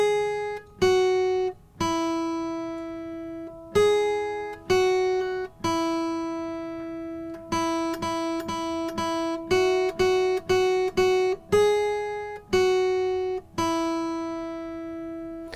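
A guitar picks out "Three Blind Mice" on a single string, one clear plucked note at a time in a simple, slightly uneven rhythm, close and bright, with each note ringing briefly before the next.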